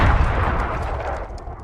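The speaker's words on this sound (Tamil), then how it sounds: "திடீர்னு ஒரு பிளாஸ்ட் சவுண்ட் கேட்கும்." A sudden explosion blast bursts loud and close, a heavy booming impact at the start that rolls off into a fading rumble over the next second and a half.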